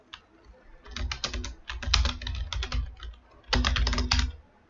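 Code is typed on a computer keyboard in quick, uneven bursts of clicking keystrokes, with short pauses between runs. The clicks are close and clear, with no talking over them.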